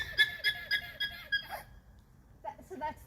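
An alpaca sounds a series of about six shrill, evenly spaced high squeaky alarm calls, fairly close, followed by a quiet gap and a brief murmur of a voice.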